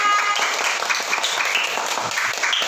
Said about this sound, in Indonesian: Tepuk tangan anak-anak semua.